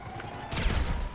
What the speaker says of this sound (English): The cops are shooting me!